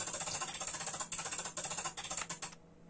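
A Sony PlayStation controller's vibration motor, wired to a ZX Spectrum, buzzes in a rapid rattling pulse, briefly interrupted several times, then cuts off near the end.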